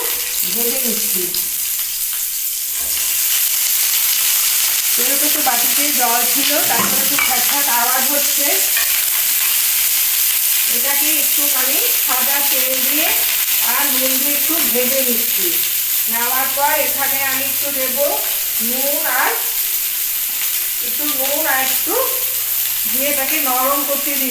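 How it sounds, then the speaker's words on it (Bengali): Thin, long strips of bitter gourd fry in hot oil with a steady, full sizzle throughout, punctuated by stirring and scraping sounds at close range while a voice speaks intermittently over the cooking. "করলাটা আমি সরু সরু লম্বা করে কেটে নিয়েছি তেলটা বসিয়ে দিয়েছি"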